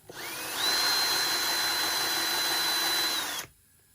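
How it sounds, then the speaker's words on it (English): A power drill running in reverse whirs up to speed and runs steadily for about three seconds before stopping, close and loud. "run your drill backwards for a couple of revolutions."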